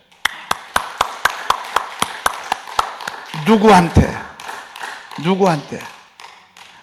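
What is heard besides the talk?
church congregation clapping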